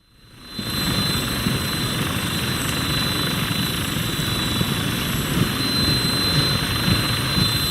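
A Vertibird aircraft in the Fallout 4 video game drones with a loud, steady jet and rotor roar that swells in over the first second and then holds constant, with no voices over it.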